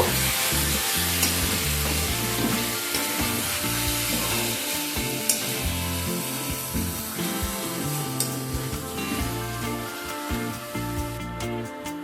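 Chicken with yogurt, sugar and spinach paste for palak chicken stirs in a frying pan, giving a constant bright sizzle and soft stirring under louder background music that runs throughout.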